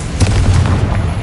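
Confringo fire spell blast in the Hogwarts Legacy video game, a loud, dense rumbling burst with a low boom sustained through the whole short moment, no talking.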